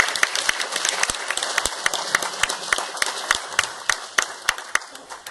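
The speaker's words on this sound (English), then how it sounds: "Round of applause." Conference audience applauding a speaker, many hands clapping in a brisk, loud patter with sharp individual claps standing out, continuing steadily without voices.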